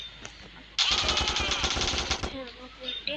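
Rapid automatic gunfire in a police-and-crime video game erupts loudly, a dense burst of shots lasting about a second and a half. Quieter game sounds come before and after it.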